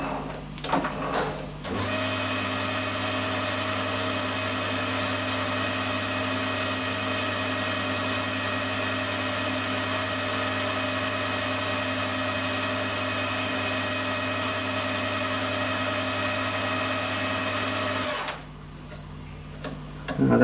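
A metal lathe cutting an aluminium engine crankcase casting for a Titan .60 glow plug engine, a steady continuous machining whine and hum that holds for most of the span before stopping, with no talk.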